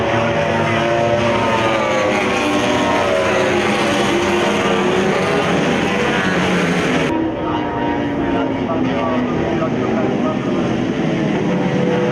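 MotoGP race motorcycles arrive on track, a loud, continuous engine roar with shifting pitch that fills the whole stretch, alongside crowd and vehicle noise.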